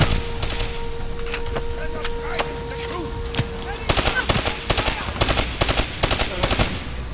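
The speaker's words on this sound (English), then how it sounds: "Oh shoot, a turret." Turret machine gun fire in the Call of Duty Black Ops 3 video game, loud rapid bursts of automatic shots that grow denser toward the end, mixed with other game effects and a steady tone early on.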